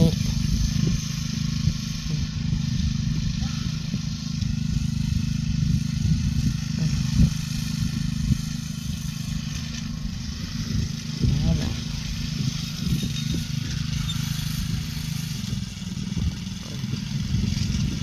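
A mini tractor engine chugs steadily nearby with a rough, rattling idle while ploughing in sugarcane, as someone talks over it for much of the time.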